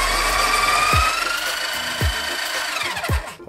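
Breville Smart Grinder Pro grinding a handful of coffee beans: a loud, steady motor whine with a low knock roughly once a second, winding down at the end.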